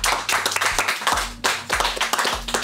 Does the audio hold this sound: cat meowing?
no